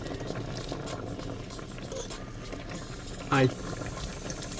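A pot of Wu Mu Hua Diao noodle soup with Chinese cooking wine boils hard in a steady, bubbling roil, with a brief spoken word over it.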